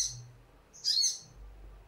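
A caged sogon songbird gives two brief, high, thin chirps, one at the start and another a moment later, against a quiet background.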